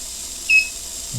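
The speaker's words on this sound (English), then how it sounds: "Oh, it beeps at 0 throttle." A racing drone's motor ESC gives one short, high electronic beep while the throttle sits at zero, a single brief tone over quiet background hiss.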